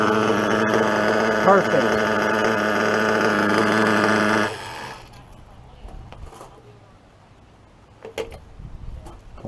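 A small nitro RC engine idles after tuning with a steady, buzzing drone, close and loud, then stops abruptly, leaving quiet handling noises and a brief spoken word.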